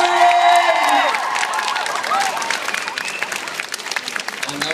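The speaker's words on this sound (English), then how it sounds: "please give a massive round of applause to Eoin Macken!" A comic convention crowd at Midland Comic Con claps and cheers for actor Eoin Macken, a dense burst of applause with scattered whoops that continues steadily.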